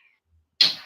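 A short, sharp cat meow from a meme clip played back, sudden and fairly loud after near silence, then fading quickly.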